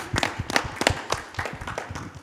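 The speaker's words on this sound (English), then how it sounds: "Give yourself a round of applause for being a part of this." A small audience at the close of a panel discussion on foster care and incarceration claps in a loose, moderate round of applause. The claps are fairly close and spread unevenly across the moment.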